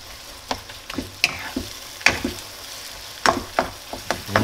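Meat for spaghetti bolognese fries in a pan with a close, steady sizzle, broken by scraping and stirring clacks of a utensil at irregular intervals; no one speaks.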